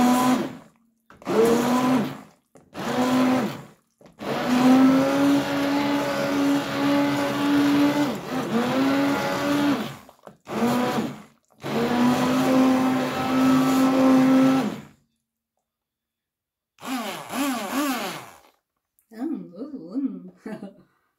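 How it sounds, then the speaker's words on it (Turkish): A blender purees homemade tomato sauce in bursts, with loud whirring runs stopping and starting over about fifteen seconds, then a short pause and quieter handling sounds with a voice speaking. "sosumuzu blenderdan geçirdik"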